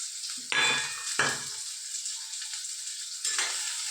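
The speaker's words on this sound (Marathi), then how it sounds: "हे व्यवस्थित आपण परतून घ्यायचे." Onions sautéing with cumin and mustard seeds in a pan for a simple summer vegetable dish, a steady close sizzle broken by a few sharp bursts as the pieces are stirred and turned.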